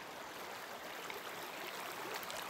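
A river rushes steadily at a backcountry crossing in the Gila National Forest, a soft, constant broadband wash with no voices over it.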